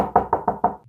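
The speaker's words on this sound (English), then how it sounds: "One single knock, precise, deliberate, and then silence." Knocks on a bedroom wall shared with a locked storage room in the middle of the night: four sharp, evenly spaced raps in under a second, close and distinct against silence.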